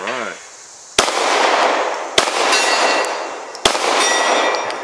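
A Glock 17 Gen 4 pistol fires Hydra-Shok hollow point rounds, three sharp, loud shots spaced about a second apart, each followed by a ringing outdoor echo.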